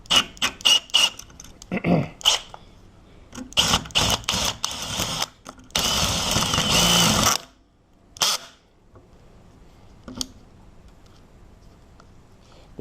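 Power drill biting into a hardened ASSA Stanley padlock, heard as a series of short, loud grinding bursts followed by a sustained harsh whine of several seconds, then quieter handling noises with one more brief burst.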